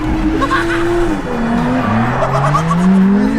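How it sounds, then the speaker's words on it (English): A car drifting through a tyre-burning burnout at a drift day: loud, sustained tyre squeal that rises and falls in pitch over a roaring engine, close and continuous. "Gonna burn these tyres up, baby."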